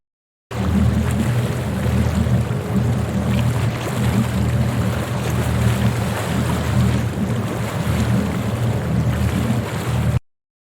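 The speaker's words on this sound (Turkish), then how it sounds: "kurtarma botu, bu bir kurtarma botu. Denizdeki insanları kurtarır" A rescue boat out on the sea, with a steady low engine rumble mixed with wind and water wash, loud and continuous throughout with no voices.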